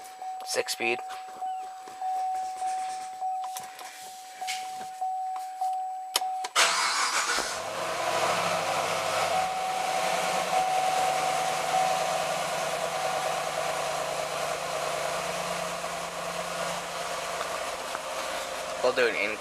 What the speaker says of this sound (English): we're going to do a startup and drive of the 2011 Camaro SS.